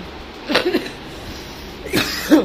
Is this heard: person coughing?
yes